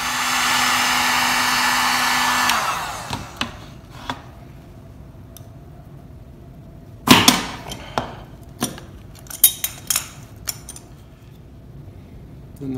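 A heat gun blows steadily for a few seconds while heating a fishing rod handle for removal, then shuts off, followed by sharp creaks, clicks and knocks as the handle is worked loose, close by.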